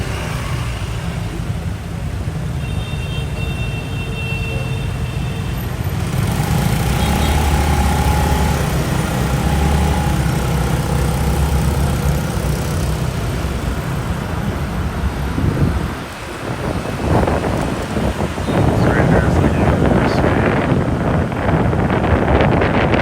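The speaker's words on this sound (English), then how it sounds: "we're cruising on the motorbike" A motorbike cruises along a road in Vietnam with strong wind buffeting the microphone. A steady engine drone runs under the roar, and the gusts get rougher and louder toward the end.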